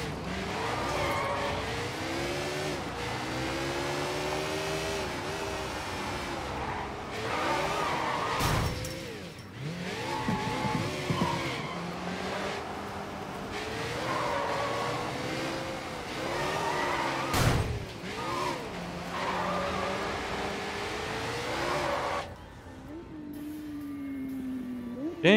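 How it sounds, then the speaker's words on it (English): A motorcycle engine in the video game Sleeping Dogs revs and whines through rising and falling pitches, with occasional tire skids and abrupt cuts, loud and continuous. "Hopping on a motorcycle is a dangerous sport."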